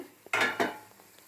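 A utensil scrapes and clinks against a pan while onion masala for a stuffed brinjal curry is stirred, giving two short, close scraping strokes with light taps after them and no voices.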